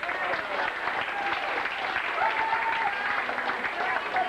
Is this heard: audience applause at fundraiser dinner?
yes